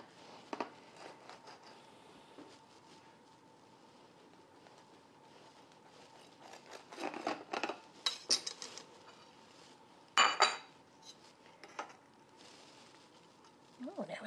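A knife cuts into a freshly baked white wind-blown cake on a plate, making faint scattered scrapes and a few sharper taps and clinks against the dish in a quiet kitchen.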